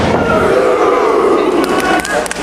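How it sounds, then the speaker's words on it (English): A Boston crowd at a Ring of Honor wrestling event roars loud and close on a two count, a dense surge of cheering and shouting with a commentator talking over it. "there you hear that Boston crowd with the two"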